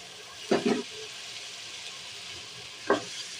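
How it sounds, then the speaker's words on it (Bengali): Small chopped pieces of beef being sautéed in a pan, a soft, steady sizzle broken by a few short stirring scrapes near the start and again toward the end. "দিয়ে আমি এখন কিছুক্ষণ কষিয়ে নিব মাংসটা"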